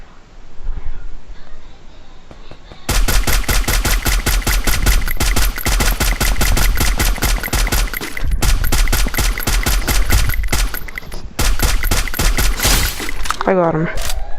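Sustained rapid automatic gunfire in an online shooter game, loud and continuous in long bursts with brief gaps, with a short voice near the end.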